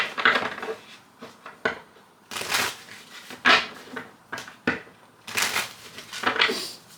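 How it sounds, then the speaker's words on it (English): Repeated bursts of crisp rustling and slapping as a deck of tarot cards is shuffled, several quick riffles in a row with short pauses between, close and fairly quiet. "Let me grab this card that fell, and then we're going to go ahead and shuffle"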